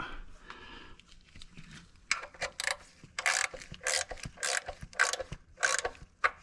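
Rapid clicking bursts of a ratchet come in short, irregular strokes while a bolt is worked loose on a Ford Flex during timing cover removal, close and fairly quiet against a still background.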